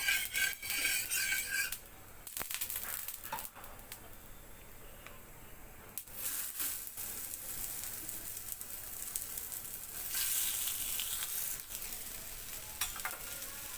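Beetroot paratha frying on an oiled pan over a gas flame, with steady sizzle broken by scraping and clattering of a spatula; a louder burst of frying hiss swells near the end.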